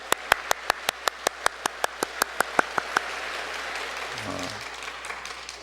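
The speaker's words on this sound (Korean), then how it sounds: "우리 다시 한번 하나님께 감사의 박수를 올려드릴게요" A church congregation at a Korean Sunday service claps in sharp, evenly timed unison beats, then breaks into looser, softer general applause, with a low hum underneath.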